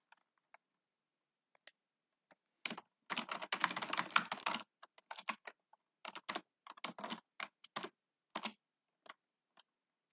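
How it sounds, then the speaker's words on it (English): Quiet computer keyboard typing in irregular bursts of close, soft key clicks, with a denser run early and scattered taps between pauses, no voices. "I'm having trouble typing and talking at the same time."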